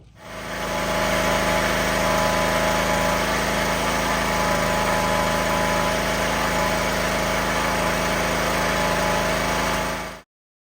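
A small engine fitted with a replacement Hipa carburetor runs at a steady idle for about ten seconds, loud and close, with a constant buzzing drone that does not surge before it cuts off.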